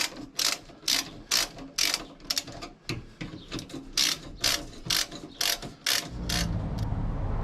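Ratchet clicking in quick bursts while tightening D-bush bolts on a Cusco rear sway bar under a Toyota JZX110 Corner Hunter, repeated pawl clatter stopping and starting, close and fairly loud, with a steadier mechanical whirr at the end.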